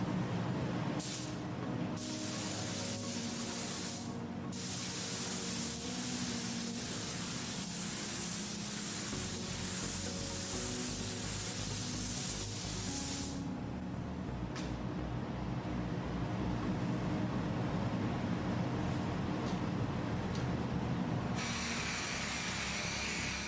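A spray gun paints the boot lid of a damaged Porsche GT3 during a respray, hissing in long steady bursts with brief pauses where the trigger is released, close and continuous, with no talking.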